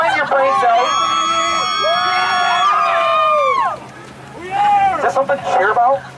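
A spring-break beach crowd of high school students at an Easter beach preaching event cheers and whoops loudly, long sustained shouts overlapping, then a brief lull before a second burst of choppy yells.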